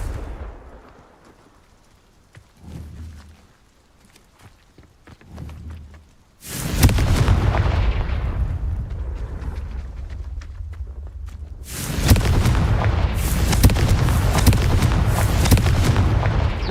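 Confringo blasting spell explosions in the video game Hogwarts Legacy: quiet footsteps and small thuds give way to a sudden loud roaring blast that rumbles on for several seconds, then a second heavy explosion sustains to the end.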